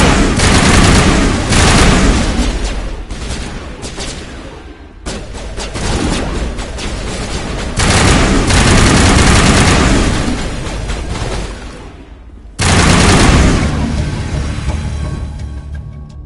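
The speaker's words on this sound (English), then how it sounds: "Open fire. Open fire!" Heavy gunfire fills a Mass Effect firefight: dense, loud, continuous bursts of automatic weapon fire and booming impacts, cutting off and resuming in several long volleys.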